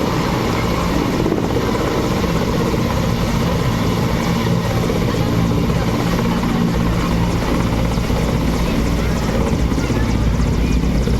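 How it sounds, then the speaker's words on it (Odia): A helicopter arriving near a village beats loudly and steadily throughout, a dense continuous rotor and engine roar close by. "ହେଲିକପ୍ଟର ଆସିଯାଇଛି।"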